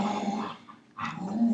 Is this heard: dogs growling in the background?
yes